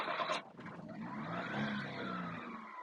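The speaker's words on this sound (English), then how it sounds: "the truck started right up." Engine of a 4x4 five-speed Suzuki Japanese mini truck catching and starting, a short burst then a steady loud running drone close by, with no talk over it.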